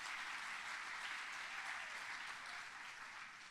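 Sustained audience applause fills a church service during a sermon, a dense, steady wash of clapping that runs loud throughout without any talk over it.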